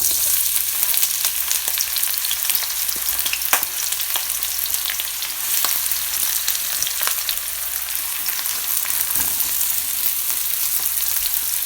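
Onions fry in oil in a skillet over medium heat, giving a loud, constant crackling sizzle with small pops, close up and uninterrupted by any voice.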